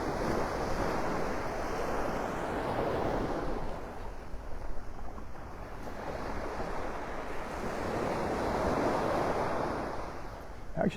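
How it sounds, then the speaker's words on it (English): Small, low ocean waves washing ashore at Vanderbilt Beach in North Naples, Florida, heard as a continuous soft surf wash that swells and eases, with steady wind rumble on the microphone and no voices. "Actually, the waves are quite low this morning compared to what we've been having."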